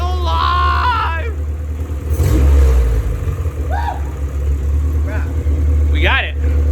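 A freshly built K24-swapped Honda Civic runs with a loud, low engine rumble that swells into a brief rev, while excited voices shout and talk over it throughout.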